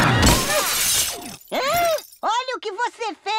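A cartoon shatter of breaking glass crashes loudly at the start, scattering into fragments, followed by animated characters' exclaiming voices.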